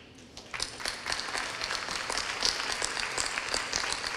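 A room full of people at a women's meeting breaks into applause, with dense, steady clapping building after a brief quiet start and continuing throughout.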